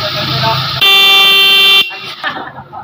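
A Nissan Sentra's loud car horn blares in one sustained honk for about a second, with people talking before and after it.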